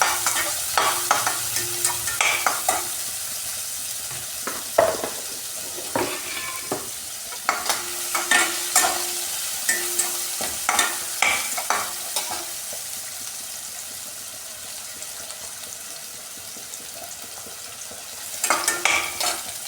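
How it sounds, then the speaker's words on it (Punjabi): Chickpea-style vegetables frying in a pan for a sabzi, stirred with a spatula: repeated scraping and clattering strokes in irregular bursts over a continuous close sizzle, no voices. "ਇਸ ਨੂੰ ਅਸੀਂ ਹਲਾ ਲਵਾਂਗੇ"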